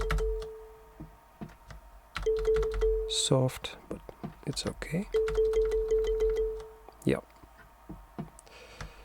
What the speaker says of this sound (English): I define some kalimba-like thing.